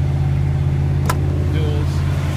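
A 1979 Dodge W200 Power Wagon engine with dual Flowmaster exhausts rumbles close by at a steady idle, with a deep, even burble and a brief faint squeal over it.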